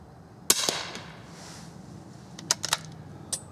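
A single .22 Short rifle shot cracks sharply and fairly quietly outdoors, followed by a few fainter clicks and knocks and then a short, soft sound near the end.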